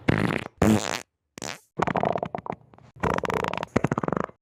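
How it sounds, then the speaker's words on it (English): Fart noise sound effects, a rapid series of loud, close, sputtering and buzzing bursts of varying length separated by short silences, ending in a fluttering rattle. "instead it'll be just a bunch of fart noises"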